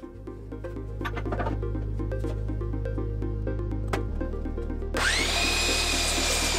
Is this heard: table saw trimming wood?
yes